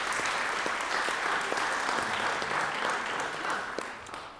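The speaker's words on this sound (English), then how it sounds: "let's give them a round of applause too" A room full of people gives a round of applause during an education department signing day event, the dense clapping steady and sustained before tapering off slightly at the end.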